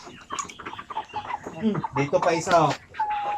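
Native chickens being raised on pure feeds cluck and call close by in a short burst, mixed in with someone speaking over them.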